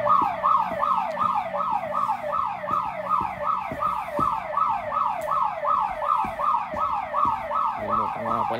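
Workplace alarm in a building in Nunavut sounding continuously, a rapid, loud, repeating sweeping wail that cycles steadily like a siren, with faint thumps and movement in the background and no speech.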